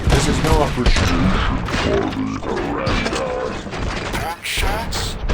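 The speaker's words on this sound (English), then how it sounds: "Gunshots?" Gunfire in the video game RoboCop: Rogue City, with bursts of shots, mechanical clanks and booms mixed with game voices and grunts, loud and busy throughout.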